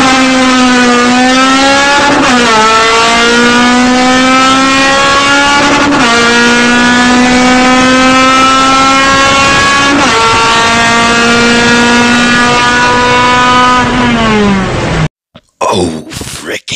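A voice imitating a Honda Civic engine while racing, with a sustained buzzing drone that repeatedly slides up in pitch like gear changes, loud and close, ending in a short burst of clattering noise.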